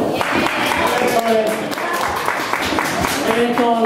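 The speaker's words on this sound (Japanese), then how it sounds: "皆さん大きな拍手" Applause from an audience at a year-end live concert event, a steady wash of clapping filling the room with voices mixed in throughout.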